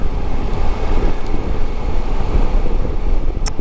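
Heavy wind buffets a microphone while riding a motorcycle in the rain in Norway, a loud, constant low roar with rumbling gusts and no clear engine note.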